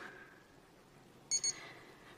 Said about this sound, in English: an alarm, and it beeps on the hour